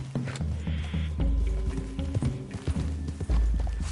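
Horses' hooves clip-clop in a video game, a run of irregular close hoof knocks over low rumbling ambience, mostly without talk.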